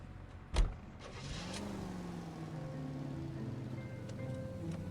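A car in L.A. Noire pulls away with a sharp thump, its engine note rising and then settling into a steady, fairly quiet hum.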